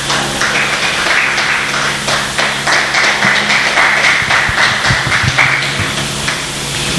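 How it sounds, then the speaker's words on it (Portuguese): Church congregation applauding during a worship service, a dense, sustained clatter of many hands clapping at close range, steady and strong throughout. "Aplauda Ele bem forte."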